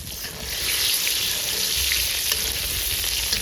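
Eggplant slices fry in hot oil with a dense, steady hiss and sizzle that holds at an even, fairly loud level throughout, with no voices.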